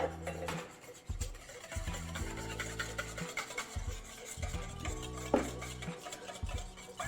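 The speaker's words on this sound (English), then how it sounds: "all you have to do is whisk this together." Whisking an oil and mustard salad dressing in a bowl: a quiet, steady rhythmic scraping and rubbing of the whisk against the bowl, soft and close with no talking.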